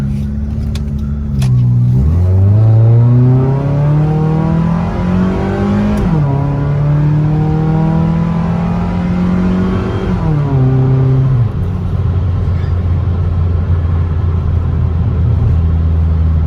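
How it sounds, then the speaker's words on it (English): A 1994 Saturn SL2 with a twin cam engine accelerates hard from inside the car, the engine revving up through several gears with clear rising pitch sweeps and shift drops, then settling into a steady cruising drone. "We'll do a little acceleration run here."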